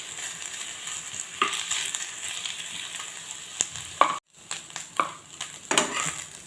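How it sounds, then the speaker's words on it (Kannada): Cleaned dried anchovies fry in a pan for a dry fish chutney. A steady sizzle comes with several distinct stirring scrapes and clinks from the pan, briefly breaking off midway, and no one talks. "ನೋಡಿ, ಫ್ರೈ ಆಗ್ತಾ ಉಂಟು. ಈ ಥರ ಫ್ರೈ ಆಗಬೇಕು"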